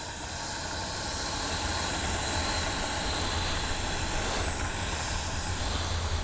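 Twin 64mm electric ducted fans on an Arrows RC F-15 model jet give a steady, loud, broadband whooshing roar with a high hiss, sustained and fairly even, swelling slightly as it builds.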